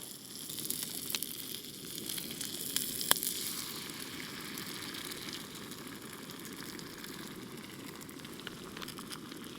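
Eggs fry in a pan at a mountain campsite after a steak has cooked. A steady, quiet hiss of sizzling fat runs throughout with an occasional faint click or pop.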